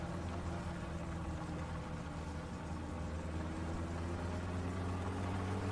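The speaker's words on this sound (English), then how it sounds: "Car sounds different, but that could be because I'm using my headphones for a change." A car engine in the game My Summer Car hums steadily with a low, droning idle and a constant rumble, steady and unbroken, with no talk over it.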